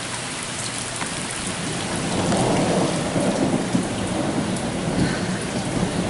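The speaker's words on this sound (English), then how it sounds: "Yeah, it's hailing like mad, apparently." Dense, loud hail and rain pelting surfaces in a continuous roar that swells midway, with no voices.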